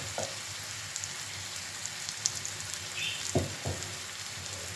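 Red peppers sizzling in a hot frying pan, a continuous crackling fry with scattered pops and a couple of soft clinks, heard alone without talking.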